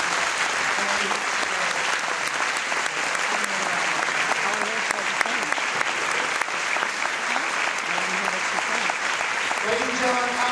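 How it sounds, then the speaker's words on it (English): A live audience applauds at a public challenge event, with dense, sustained clapping that stays loud and even throughout, plus a faint voice low underneath. "Ladies and gentlemen, Anita Ikonen, she does a big round of applause."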